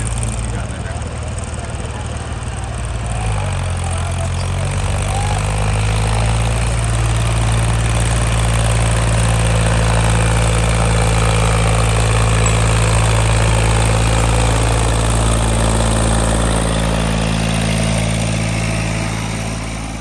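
A tractor fitted with an 18-disc harrow idles close by in a steady, loud, low rumble that shifts pitch slightly a few seconds in, then holds an even drone throughout.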